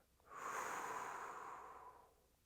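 A single slow, airy exhale during breathing meditation, close and soft, swelling quickly and then fading gradually over about two seconds against near silence.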